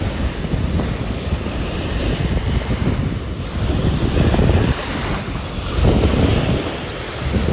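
Ocean surf at Sai Kaew beach in Sattahip, Thailand, where gentle waves wash continuously with steady swells and a rushing roar, mixed with gusty wind buffeting the microphone; no voices.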